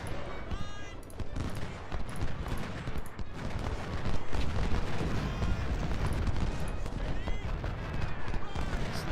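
Cannon fire in Ultimate General: Civil War rumbles across a large battlefield, with dense, overlapping artillery blasts and musketry forming a steady roar of combat and no talking.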